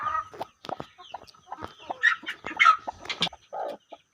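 A broody black-and-white speckled hen clucks close by, giving a run of short, uneven clucks and a few drawn-out calls in separate bursts.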